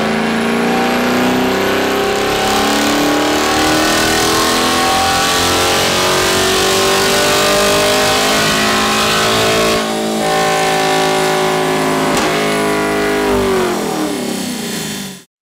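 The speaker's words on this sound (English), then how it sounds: "Chevrolet Camaro SS." A Chevrolet Camaro SS roars on a dyno, its loud V8 climbing steadily through the revs in one long sweep, briefly easing, then rising again before cutting off abruptly at the end.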